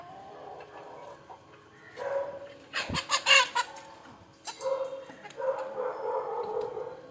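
Roosters fighting, clucking and squawking in agitated bursts, with a sudden loud flurry in the middle and a dog barking nearby.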